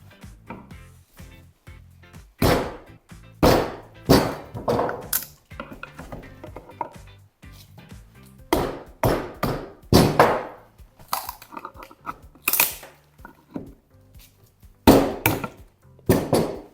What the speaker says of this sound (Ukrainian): Беремо далі і б'ємо стамескою.